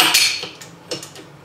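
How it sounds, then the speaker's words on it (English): Metal clinks and light clatter as a stand mixer's paddle attachment is taken off and the dough hook is fitted for kneading challah bread dough, a few close, sharp knocks spaced over a quiet kitchen background. "now we want to take off this paddle attachment and we're going to use the dough hook"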